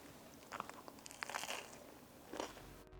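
A few quiet, close crunches come from biting into and chewing a crispy air fryer chicken sandwich, with crackly bursts separated by brief pauses.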